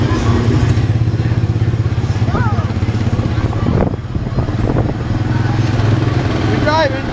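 A small race car's engine buzzes steadily and close by while being driven, with brief clatter and a short dip in the drone midway, and a few short high voice-like chirps.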